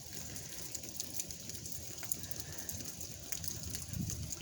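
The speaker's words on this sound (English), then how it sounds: "Well, that's just freezing rain right there." Freezing rain falls steadily in North Carolina, a dense, even hiss of icy drops pattering on surfaces, close and continuous with faint scattered ticks and no talk.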